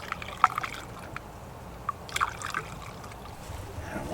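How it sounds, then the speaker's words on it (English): Water trickles and drips through a Jeep heater core hose in the cold, with faint irregular splashes and small gurgles close by and no talk. "feed some water through."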